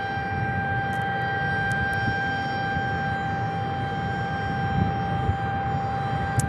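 A small plane, a Cessna or a little Honda Jet, flying near Tucson International Airport, heard as a steady droning roar with sustained tonal whine, constant and fairly loud throughout.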